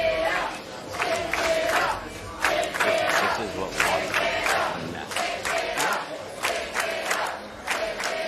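A large arena crowd at a PBA Elite League bowling event cheers and roars in repeated loud swells, rising and falling in waves.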